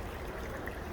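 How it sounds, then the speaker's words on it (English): The fast, high-volume Yakima River rushes at roughly ten miles an hour, making a steady, unbroken broadband roar of flowing water with no pauses. "the flow of the river is absolutely just incredible. It's moving at a high clip"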